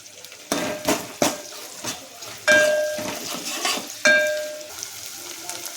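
Chopped onion goes into a pan for Malvani-style chicken rassa, landing with a clatter and then fried with several sharp scrapes and knocks of a spoon against the metal pan. A soft sizzle runs between the knocks, and no one speaks.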